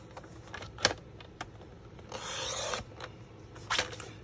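A paper trimmer blade slices through two stacked sheets of cardstock in one steady rasping pass, framed by a few sharp clicks and taps of the trimmer and paper being handled close by.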